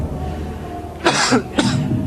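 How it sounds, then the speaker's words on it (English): Two harsh coughs close by, a longer one followed shortly by a shorter one, after a quiet stretch. "cough stops him mid-sentence"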